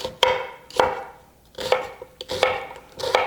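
A knife chops butternut squash into large chunks on a cutting board, six sharp, separate thuds spaced through the stretch, close and fairly loud with nobody talking.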